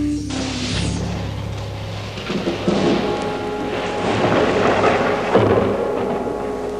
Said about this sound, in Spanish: Ve esta tormenta frente a nosotros.